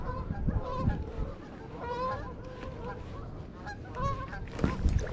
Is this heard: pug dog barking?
no